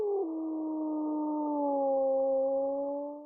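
A wolf howling in a long, steady, gliding tone with layered pitches that holds for several seconds and fades at the end, clear and alone without talk.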